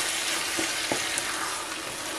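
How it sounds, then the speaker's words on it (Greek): Tomato paste is sautéed in a pan with a steady, close sizzle and a couple of soft stirring knocks, with no talking. "θα συνεχίσω το σοτάρισμα τουλάχιστον για 1 με 2 λεπτά για να βγάλει τα αρώματά του ο πελτές"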